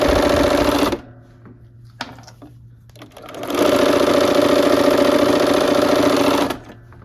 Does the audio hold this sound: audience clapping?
no